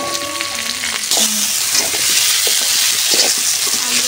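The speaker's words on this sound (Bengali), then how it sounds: "আলুটা সুন্দর করে ভেজে নিচ্ছি" Potatoes frying in hot oil for a picnic biryani meal give a loud, close, continuous sizzle, with a few soft scraping stirs over it and no voices.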